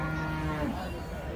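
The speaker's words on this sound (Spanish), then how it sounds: "ahí están esas bonitas chulas vacas" Cattle at a livestock market in San Miguel give a long, low, sustained moo, with more animals and yard noise blending in the background.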